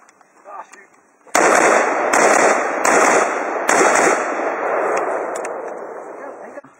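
Rifles fire at an outdoor rifle match in a loud, close volley of several sharp cracks over a few seconds, followed by lingering echo, with faint voices just before.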